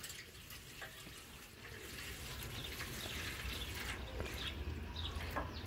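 Water pours steadily into a bucket for paydirt panning, a continuous splashing rush that builds slightly louder over several seconds with no voices.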